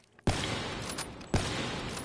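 Two loud, sharp gunshots about a second apart ring out in a sniper shooter video game, fired through a wall, each a sudden crack followed by a lingering noisy tail.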